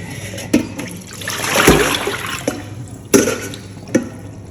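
Callaloo leaves are rinsed under water in a kitchen, giving a swelling wash of splashing with a few sharp knocks and splashes, close and fairly loud, with no talk.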